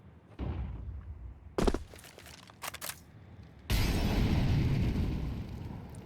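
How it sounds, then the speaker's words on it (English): HE grenade blast in Counter-Strike on the Vertigo map at an esports match: a deep thump, a few sharp bursts, then a loud sustained roaring explosion, with a commentator's voice faintly underneath. "It's a HE grenade."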